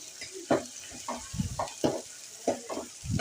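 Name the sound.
onion, garlic, fenugreek, cumin frying in a pan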